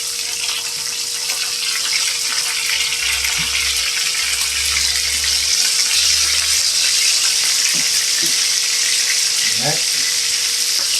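Snapper fillets frying in hot oil give a steady, loud sizzle and crackle that continues without a break, with a few faint background clunks.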